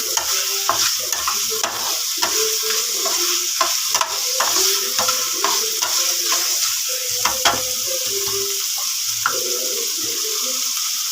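A spoon scrapes and clinks around a sizzling pan in quick irregular strokes, stirring garlic, tikka masala and salt, with a steady background hiss of frying.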